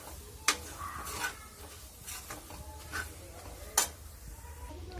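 Boti fry, goat tripe cooked with red chilli powder, coriander and spices, is stirred in a pan. Soft scraping and faint sizzling sound close by, with two sharp clinks of the spoon against the metal pan and no voices.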